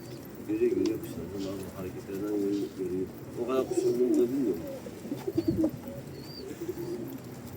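Several pigeons coo in low, rolling bursts that repeat through the scene, with people talking nearby over the birds.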